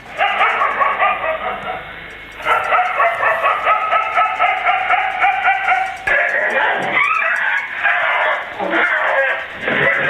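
A stray dog barks in steady, rapid, close bursts and then breaks into yelps and whimpers, with a voice talking over part of it.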